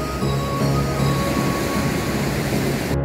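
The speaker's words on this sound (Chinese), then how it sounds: "后面是龙凤谷瀑布" Longfeng Valley waterfall in Alishan Township, Chiayi County, Taiwan, gives a steady, dense roar of falling water that holds constant throughout and cuts off abruptly at the end, with no voices.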